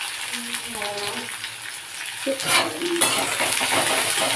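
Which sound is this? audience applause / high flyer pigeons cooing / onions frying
onions frying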